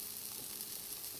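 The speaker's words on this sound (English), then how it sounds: "If you hear the sizzle when you put the ingredients in, it's hot enough" Carbonara ingredients sizzle in a hot pan with no added oil, a steady, moderately quiet frying hiss without any voices.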